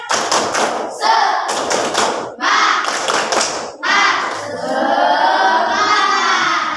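A class of schoolchildren repeats a rhythmic clapping cheer, clustered claps separated by short gaps and followed by loud shouted group voices, near and lively.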